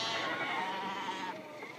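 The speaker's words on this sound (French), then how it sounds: "les brebis sont bien accompagnées de leurs agneaux" Sheep with their lambs on an Icelandic mountain farm give a long, wavering bleat that fades toward the end, heard near and moderately soft.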